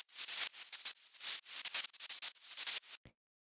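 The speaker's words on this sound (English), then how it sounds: "I have some white noise, and that's going into a bandpass filter, which is set like this" Synthesized white noise fed through a bandpass filter swept by an LFO, a hissing texture that pulses and swells in quick irregular bursts, close and fairly loud, cutting off abruptly near the end.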